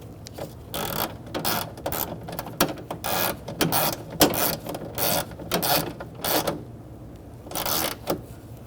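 Ratchet with a 10mm socket and extension tightening a bolt inside a Ford Taurus door during a front power window regulator replacement, a series of quick clicking bursts repeating close by with short pauses between strokes.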